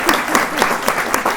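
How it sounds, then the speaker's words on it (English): Audience applause at a talk on poetry, history and race, with a brief burst of dense, close hand clapping from a seated crowd and some voices mixed in. "I know we're clapping a lot"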